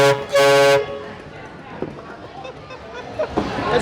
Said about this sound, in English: And finally, the nasty blaster is your train horn.